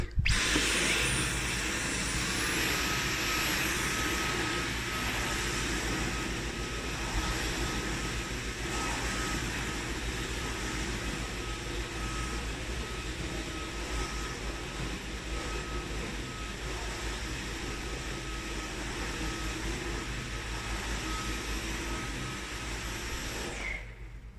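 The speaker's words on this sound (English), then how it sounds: "I'm just going to start vacuuming this entire area" A Dyson V11 Absolute cordless vacuum cleaner runs continuously with a loud, steady high-pitched motor whine and airflow roar, close by and alone throughout.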